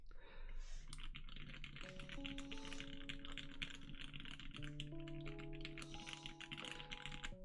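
Typing on the J-02 Blackout Edition prototype mechanical keyboard, a fast, even patter of crisp key clacks up close, running under a soft background melody.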